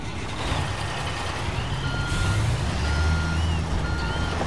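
A truck's reversing alarm beeps at a steady interval in the Construction Simulator video game, over a low engine rumble and outdoor job-site ambience.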